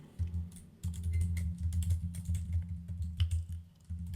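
Computer keyboard typing while entering kubectl commands, a quick run of close, crisp key clicks in uneven bursts with brief pauses, no talking.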